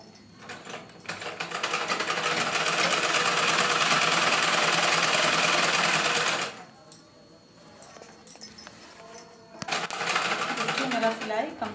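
A sewing machine stitches fabric in one loud, continuous run lasting about five seconds, then stops, followed by scattered handling clicks and rustles.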